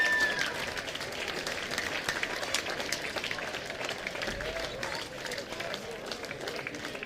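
Crowd in the grandstand at a football grand final applauding an injured player, steady distant clapping spread across the stands while a commentator talks over it.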